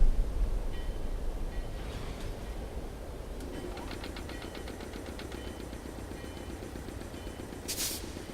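A train in the adventure game Secret Files: Tunguska gives a steady rumbling engine drone with a rhythmic clacking that builds midway and a brief hissing burst near the end, with no voices.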